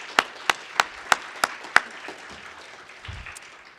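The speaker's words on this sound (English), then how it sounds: "I'd like to give the speakers another round of applause for the great job they did today" Closing applause from a small audience at an agriculture appropriations event, a handful of sharp, distinct claps in a steady rhythm that quickly trail off into quiet room noise.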